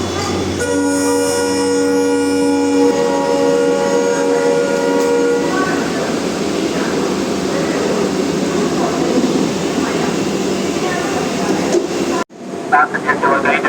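The Mysuru–Sengottai special express train at Tiruchirappalli Junction sounds a long, loud horn over the rumble of the train and platform noise, then the rumble continues before an abrupt cut.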